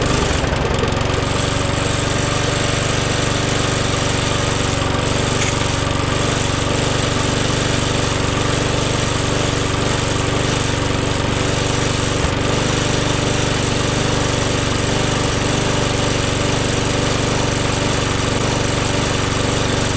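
A cheap little old lawn mower, scavenged from the tip after being left out in the rain and tipped on its side, runs steadily with a loud, continuous rattling engine drone and no voices.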